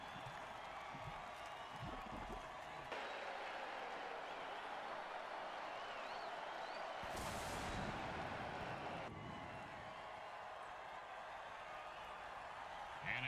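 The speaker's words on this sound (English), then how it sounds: "Crowd's loving it." Crowd cheering in an American football video game, a broad distant roar of stadium noise that swells in the middle and stays steady, with brief sharp bursts.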